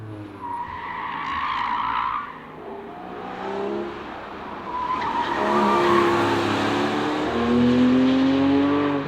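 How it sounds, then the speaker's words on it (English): Porsche 718 Cayman GTS 4.0 driving on a racetrack, loud engine roar rising and falling through gear changes with tire squeal and skidding, heard from inside the car. "this is a true race car, so it's also pretty loud in here"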